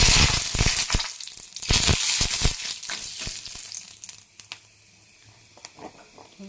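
Panch phoron spices and a split dried red chilli fry in hot oil with a loud, crackling sizzle broken by sharp pops. The frying slowly fades to a softer, sparser hiss with a few last spits.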